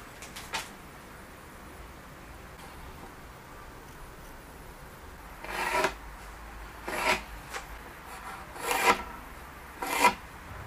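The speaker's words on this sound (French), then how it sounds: "on va commencer par tracer les mesures sur une planche" Pencil drawing measurement lines on a wooden board while building a Dadant beehive, heard as a handful of short scratchy strokes near the mic, a few seconds apart, against a quiet background.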